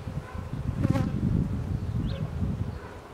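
Honey bees buzz around a hive in a continuous, close drone with a few individual bees flying past, no voices over them.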